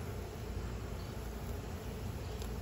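Honeybees at a beehive make a steady, dense buzzing drone that holds evenly throughout, close and moderately quiet with no talking.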